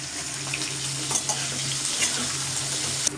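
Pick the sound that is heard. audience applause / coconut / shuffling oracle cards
coconut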